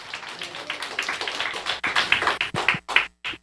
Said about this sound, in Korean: 하나님 앞에 영광의 박수 올리겠습니다